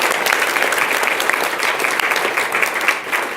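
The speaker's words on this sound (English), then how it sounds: "let's give them a round of applause" An audience at a school district governing board meeting claps steadily in a dense, even burst of applause lasting a few seconds, with no talking over it.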